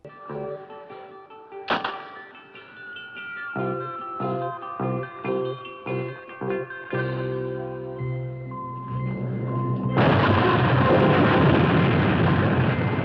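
Cartoon explosion after a flare gun is fired in a Shazam! animated episode: a sudden loud burst swells into a long, roaring rumble of blast and debris that carries through to the end, following quieter thumps and tones beforehand.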